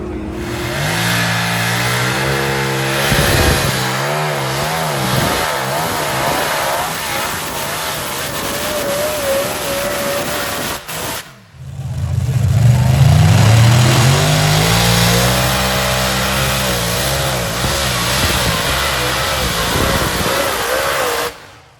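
Light modified pulling tractor powered by two big Hemi engines at a national championship tractor pull, roaring loudly and steadily, dipping briefly before surging back in a sustained high-revving pull.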